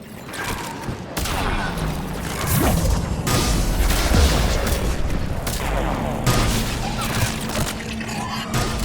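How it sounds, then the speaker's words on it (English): Deep, heavy rumbling of an earthquake in Mass Effect 3 on the Krogan homeworld Tuchanka, a sustained loud roar with crashing bursts layered over battle noise. "Another quake! Kalros is more than a myth!"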